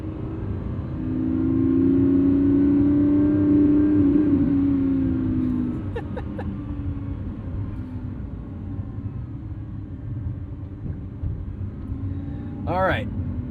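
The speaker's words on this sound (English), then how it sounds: "this is still a big ornery V12 Lamborghini" Lamborghini Revuelto V12 driving at night, a deep engine drone that swells loudly for a few seconds before easing to a lower cruising rumble, with a brief rising whine near the end.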